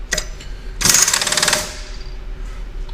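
A milling machine edging bit taking a small cut off a meat tenderizer head: a short rattling burst, then a louder harsh chattering grind lasting about a second before it fades, close up with no speech.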